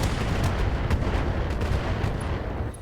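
Long Tom artillery firing in the RogueTech mech combat game: a dense, loud, sustained rumbling barrage with heavy low-end booms rolling continuously, no voices over it.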